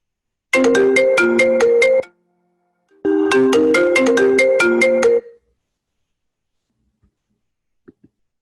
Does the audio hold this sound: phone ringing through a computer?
yes